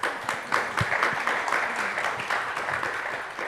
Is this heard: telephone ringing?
no